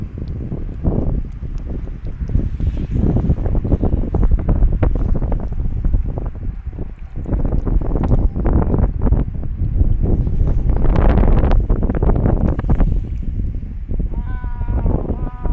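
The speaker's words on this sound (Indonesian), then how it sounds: "Angin terlalu kuat, gila. Terlalu kenceng." Strong, gusty wind roars and buffets the microphone outdoors in Bandung, West Java, near a hydroplane. The rumble is heavy and continuous and swells in stronger gusts.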